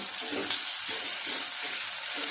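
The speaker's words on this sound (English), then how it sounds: "So next I'll be adding the potatoes and as well as the green peas, just to save some time. And I'll give a good stir." Minced pork frying with potatoes and green peas as they are stirred in the pan, a steady close sizzle with rhythmic scraping strokes of the spoon repeating about every half second.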